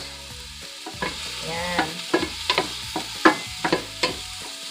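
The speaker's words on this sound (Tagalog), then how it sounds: "At kalutuin natin ng kunti ang ating onions" Onions fry and sizzle in a pan for Japanese-style ramen with chicken set aside, while a utensil stirs in repeated scraping taps over a steady close sizzle; a voice briefly speaks.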